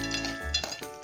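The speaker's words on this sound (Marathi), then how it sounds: "आपल्याला ही वडी आता याच्यामध्ये तेलामध्ये टाकायची आहे" Savji vadi pieces fry in hot oil in a pan, giving a continuous close sizzle and crackle with brief scraping and clinking of utensils against the pan.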